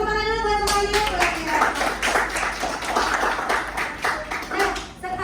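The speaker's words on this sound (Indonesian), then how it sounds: "tepuk tangan dulu buat semuanya." A school class applauds, many hands clapping in a quick, dense patter for a few seconds, beginning just after a voice speaks.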